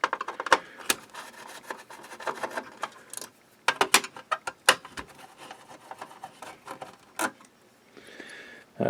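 Hidden screws are taken out of an IBM Power 6 server power supply, heard as a close run of sharp metallic clicks, rattles and scrapes with short pauses between bursts.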